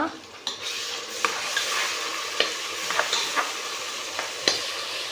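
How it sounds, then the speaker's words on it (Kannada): Garlic paste frying in oil in a pan while cooking party-style ghee rice, a steady hiss of sizzling broken by occasional scrapes and taps of a spoon stirring. "ಎರಡು ಸ್ಪೂನಷ್ಟು ಬೆಳ್ಳುಳ್ಳಿ ಪೇಸ್ಟ್ ಹಾಕೋತಾ ಇದ್ದೀನಿ ಸಾಕು ಚೆನ್ನಾಗಿ ಫ್ರೈ ಮಾಡೋಣ"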